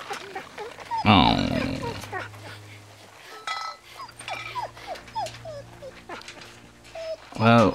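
Injured dog whimpering in The Walking Dead video game, a few short high whines and yelps scattered among game dialogue, with a louder burst of sound near the start and another at the end.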